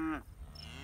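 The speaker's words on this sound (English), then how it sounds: "Let me show the cows a little bit." A single close cow on a community pasture gives a short, low moo that fades quickly, with faint open-air background around it.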